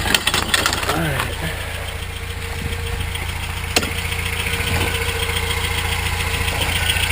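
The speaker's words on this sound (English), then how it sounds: "this camera likes to make it sound like my engine sounds terrible" A rebuilt 22RE four-cylinder in a 1993 Toyota Pickup runs at a steady idle with a low, even rumble, heard close up after a few louder knocks at the start.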